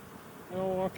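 Honey bees buzz around an opened hive in a Colorado backyard apiary, a close, loud buzzing that swells halfway through and holds steady before cutting off.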